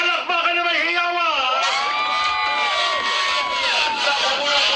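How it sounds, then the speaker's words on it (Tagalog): A crowd at a birthday party erupts in loud cheering and high-pitched whoops, with excited shouting voices sustained throughout and clapping blended underneath. "simulan natin yung palakpakan na may hiyaw!"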